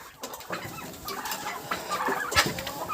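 Turkey poults call in a farmyard with short, scattered chirps and clucks, fairly faint and close.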